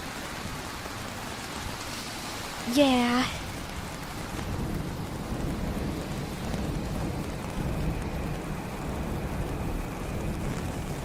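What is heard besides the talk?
rain falling outdoors while walking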